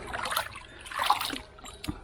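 Running water rinsing powdery pumice filter media for a shower trickle filter, a soft splashing trickle with a couple of louder surges, close by and heard alone.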